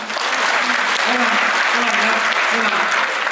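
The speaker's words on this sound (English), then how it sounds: "Everybody wants to clap for that." An audience at an inspirational business talk claps steadily and loudly throughout, a dense wash of applause with no breaks.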